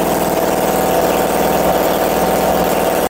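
A 30-plus-year-old quarter scale model airplane engine runs steadily and loudly up close, a continuous buzzing drone that holds an even pitch throughout and cuts off abruptly at the very end.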